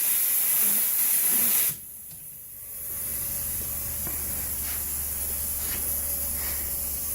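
CNC machine spindle air coolant blowing through an opened solenoid: a loud broad hiss that cuts off sharply, then a quieter steady airflow hiss with faint mechanical hum continuing to the end.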